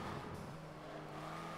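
A 2019 Hyundai Veloster Turbo engine in a Forza multiplayer race, giving a steady, loud droning roar with a slight pitch shift early on, heard continuously and alone.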